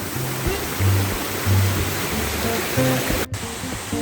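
Igise Falls in a valley in Daegu, running with only modest water, gives a steady, close rushing roar that fills the whole stretch with even, continuous noise.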